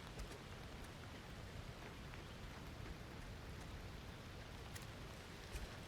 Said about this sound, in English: As you can tell, it's raining. We do have rain in this game and weather systems.